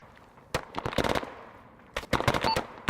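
Automatic gunfire in Arma 3 during an assault on a fort, two separated bursts of rapid sharp shots, moderately loud over quiet background.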